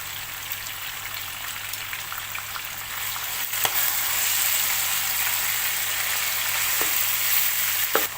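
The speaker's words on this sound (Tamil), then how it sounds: "இப்போது நம்ம எடுத்து வச்சுருக்கிற டொமேட்டோ பேஸ்ட்டை இதில் சேர்க்குறேன்." Tomato paste hits a hot frying pan while cooking Saudi kabsa, giving a continuous bright sizzle with crackling spits, a few utensil clicks, and a swell of louder frying partway through.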